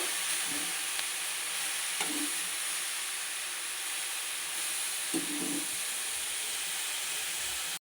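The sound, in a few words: carrots frying on medium flame for carrot halwa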